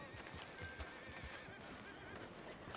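A horse in Red Dead whinnies faintly with clip-clopping hooves beneath, a soft, low-level sound heard alone.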